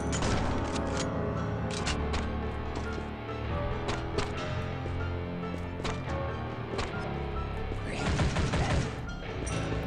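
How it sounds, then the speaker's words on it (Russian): Gunfire from the Stickman Zombie mobile game, a dense fusillade of sharp repeated shots and crashing impacts with a thicker burst near the end, loud and continuous with no speech. "Я, главное, нажимаю один раз, он почему-то два раза выстреливает."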